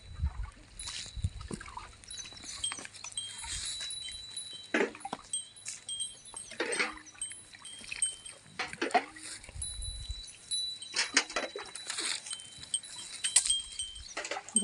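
A Gir cow being washed with water on a farm, with irregular splashes, trickles and thuds at moderate distance over faint background noise, no one talking.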